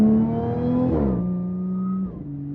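Audi S4 B8 fitted with an Integrated Engineering intake and AWE Touring exhaust, revving high and howling as the pitch climbs, shifts down, holds, then drops away, loud and close with no talk.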